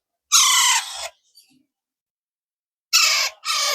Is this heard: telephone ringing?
no